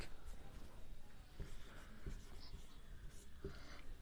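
A teacher writes on a classroom board during a geography lesson, making faint, scratchy strokes in short, scattered bursts against a quiet room.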